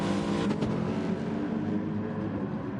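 McLaren race car engine in a racing video game, a loud, sustained high-revving drone held at full throttle, no talking.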